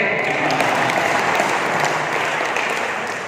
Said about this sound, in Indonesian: Tepuk tangan saya.